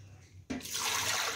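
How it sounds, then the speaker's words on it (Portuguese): Water poured into a blender for a creamy beef broth with cooked cassava, starting abruptly as a loud, steady splashing rush that continues to the end without any talk. "Vou colocar água aqui."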